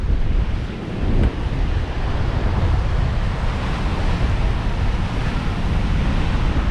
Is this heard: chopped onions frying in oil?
no